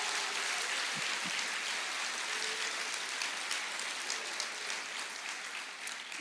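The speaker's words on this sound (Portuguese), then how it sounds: "Aplauda o Senhor." Church congregation applauds in a sermon, a dense, even wash of many clapping hands that holds steady at moderate loudness throughout.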